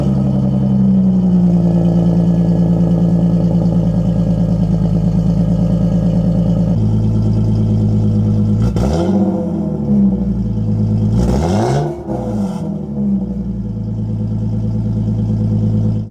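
A Lexus IS300 on a test drive, its engine droning steadily from inside the cabin, with a shift in pitch partway through, then two short bursts of rumbling and clatter near the end.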